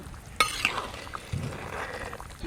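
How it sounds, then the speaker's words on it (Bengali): Desi chicken curry simmering in a pot in a village kitchen, a soft steady bubbling and sizzling with a few light knocks of a spoon or pot, close and fairly quiet. "টকবক করে একদম মাংসটা ফুটছে।"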